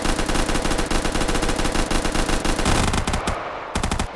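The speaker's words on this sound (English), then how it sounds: "That was the biggest gunshot I possibly ever heard" Rapid loud machine-gun bursts in a Minecraft game, a dense rattling stream of shots that breaks into short separate bursts near the end.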